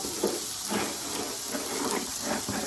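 Water boiling in a pot on the stove, a soft steady hiss with gentle bubbling bursts recurring every half second or so, heard close and without voices.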